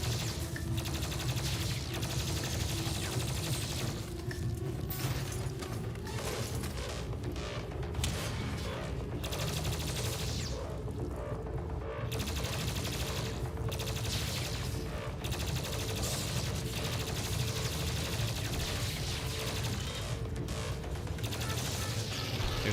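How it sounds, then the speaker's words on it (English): Fast, dense bursts of plasma rifle fire and explosions from the Doom Eternal video game rattle on with little pause, loud and punchy throughout. "Love the plasma rifle. It's so powerful. Enemies are just exploding all over."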